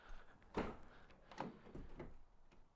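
A Ford Transit L3H2/L3H3 van's door swings open and catches on its magnetic holders, giving a few close clunks and clicks with no talking.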